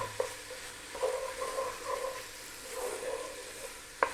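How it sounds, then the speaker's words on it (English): A saffron mixture cooks on low heat in a pan while being stirred, giving a soft steady sizzle with light scraping strokes at an unhurried rhythm, close and quiet, with no talking. "just stirring it away on this low heat, just for about 3 minutes"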